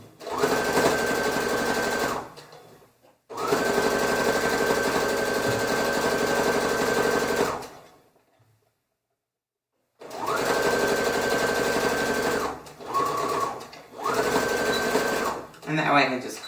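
A sewing machine stitches a shirt in several sustained runs of fast, steady mechanical whirring, close and loud, broken by pauses including one long silence, with a short burst near the end.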